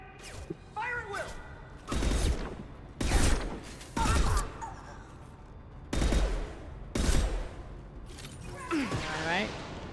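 Bursts of gunfire from a Mass Effect 2 firefight come in several loud, separate volleys with mechanical clanks between them, while game voices speak throughout.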